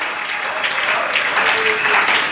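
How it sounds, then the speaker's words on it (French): A church congregation at a Sunday service applauding, a dense, bright burst of clapping from many hands that holds steady and swells slightly toward the end. "On acclame cet homme"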